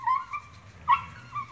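An Airedale Terrier puppy whimpers and yelps in short, high cries as its mother disciplines it, with a sharper yelp partway through, heard fairly close in a quiet room.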